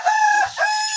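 Chickens on a farm with mixed Brahma and native breeds: a loud, close rooster crow split into two stretched, ringing calls over about a second, heard alone with no talk.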